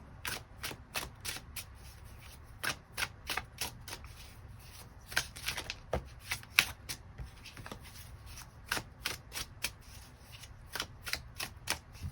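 A deck of tarot cards is shuffled by hand, with a quick series of crisp, close riffling snaps that come in irregular bursts over quiet room tone.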